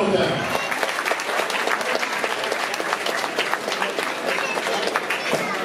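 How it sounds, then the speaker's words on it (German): Audience applause at a Leverkusen fight night after a bout between Delia Heimerl and Melanie Grünheck ends in a draw: dense, loud, steady clapping from a crowd filling the whole stretch, with voices mixed in. "Unentschieden, Applaus, meine Damen und Herren."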